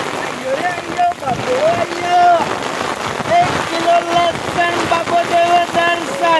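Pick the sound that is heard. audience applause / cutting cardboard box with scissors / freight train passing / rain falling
rain falling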